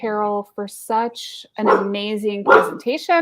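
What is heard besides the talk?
dog barking under a desk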